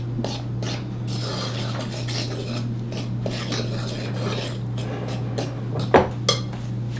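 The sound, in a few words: mixing dry soda bread ingredients with a fork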